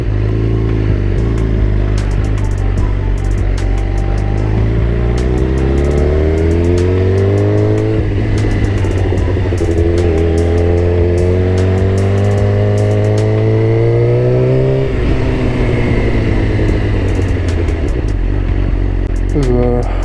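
A Suzuki GSX-R600 sport motorcycle engine revs up repeatedly, its pitch climbing in several long sweeps, loud and close, with a steady drone beneath.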